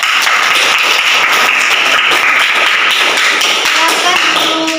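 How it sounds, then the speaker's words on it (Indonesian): Audience applause after a class presentation at a senior high school, a dense steady clatter of many hands clapping close by, filling the whole stretch with no pause. "Aplaus."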